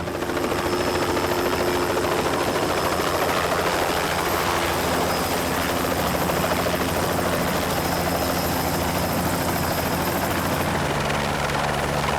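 A helicopter flies overhead, a loud, steady rotor drone with a dense whirring hum that runs unbroken throughout and shifts slightly near the end.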